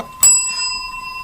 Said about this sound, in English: That's enough with the bell. No, it's not. Stop with the bell.